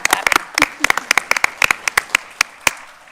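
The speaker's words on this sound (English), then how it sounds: "already clapping." A small audience at a county school board meeting applauds, sparse distinct hand claps from a few people in a room, irregular and fading over a few seconds.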